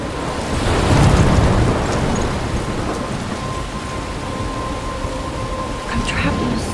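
A thunderstorm in the game Life Is Strange, with steady heavy rain and a broad rumble of thunder swelling early, then continuing as a dense wash of rainfall throughout.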